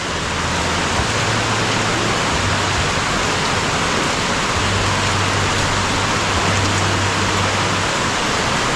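Heavy rain pours steadily throughout, a dense, constant hiss with a low rumble underneath, close and loud without pause.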